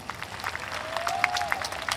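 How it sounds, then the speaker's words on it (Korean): Audience applause at the Seoul Jazz Festival open mic jam session, a faint and thin patter of clapping with a sustained tone running through it partway, heard without speech. "여러분 응원의 박수 한번 부탁드리겠습니다"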